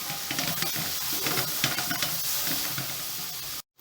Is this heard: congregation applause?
no